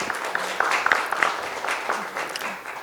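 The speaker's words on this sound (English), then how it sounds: "a round of applause would definitely help the women entrepreneurs out here who are sitting out here." Audience applause for women entrepreneurs at a banking MSME conclave, a short round of scattered clapping with a few sharp individual claps standing out before it tapers off.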